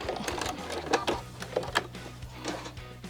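A sewing machine back-stitches a quilt block seam, giving short bursts of rapid mechanical clatter with brief pauses between them, close and fairly loud, with no voices.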